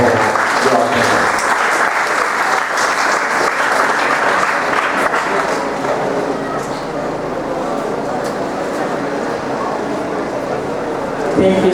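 Sustained, loud audience applause fills a conference hall after a speech on the urban redevelopment of Tacloban City, with voices talking over the clapping.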